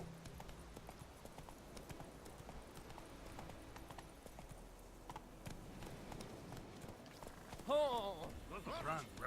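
Roach the horse gallops in The Witcher 3, a steady run of hoofbeats under a voice, with a louder burst near the end.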